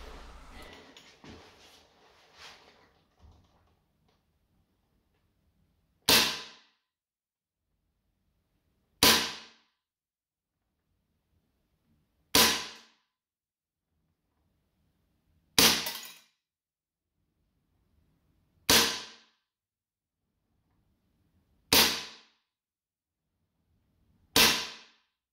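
A gas airsoft pistol loaded with red gas fires seven sharp, loud single shots spaced about three seconds apart during an indoor velocity test in cold weather, each crack ringing out alone after some faint early rustling.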